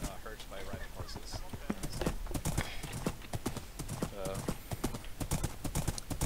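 Horse hooves clip-clop steadily in a quick rhythm while riding, close and fairly loud, with brief whinnies and talk over the top.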